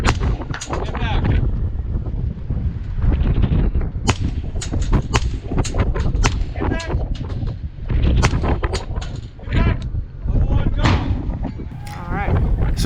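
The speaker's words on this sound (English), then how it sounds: "shooting off these sandbags on the 3rd floor was much easier than trying to do it out of a window" Rifle shots fired from sandbags on a third floor at 300 and 400 yard targets during a retro rifle match, many sharp cracks in close succession, loud and near, some overlapping with other shooters' reports.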